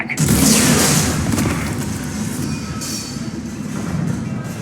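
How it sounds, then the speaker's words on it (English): A bomb blast in the sci-fi shooter Mass Effect 3 booms at the start and gives way to a sustained, heavy rumble that slowly fades. "Bomb! Get back!"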